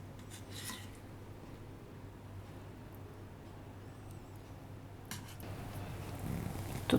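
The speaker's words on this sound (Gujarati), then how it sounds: "તો થોડુંક પનીર આપણે ઉપર આ રીતે છીણીને નાખીશું." Paneer is grated over pumpkin curry, quiet rubbing and rasping strokes in short bursts near the start and toward the end, faint against a low hum.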